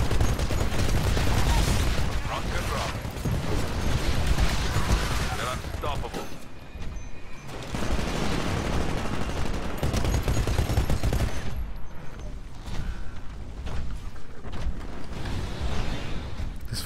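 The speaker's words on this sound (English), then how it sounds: "Fucking arc nades just wreck my shit" Arc grenades and gunfire roar through a frantic Titanfall match, a continuous barrage of loud crackling blasts and bursts with little pause, while a player talks over the chaos.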